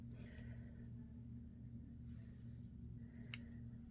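Scissors snip through a makeup sponge, a few quiet crisp cuts spaced apart over a low steady background rumble, faint and close with no talking.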